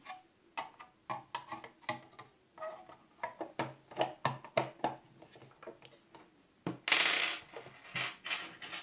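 The lamp cover of a sewing machine is handled and closed: a run of faint, close plastic clicks and taps at an uneven pace, ending in a short, louder scraping rustle.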